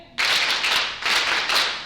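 Digital clapping sound effect at an online communications and technology session, three loud bursts of dense applause in quick succession, each swelling and fading, close and alone.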